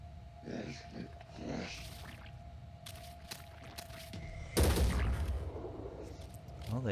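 Enemy gunfire in the turn-based strategy game Phoenix Point, a few sharp shots scattered through the clip, with one heavier burst near the middle over a steady low hum and faint game sounds.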